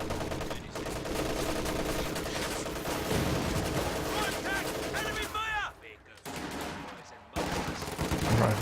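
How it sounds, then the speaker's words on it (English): Machine gun fire rattles in a Company of Heroes 2 battle, dense overlapping bursts mixed with heavier explosions and other game effects, loud and continuous with a brief lull before the firing resumes. "machine guns firing on this"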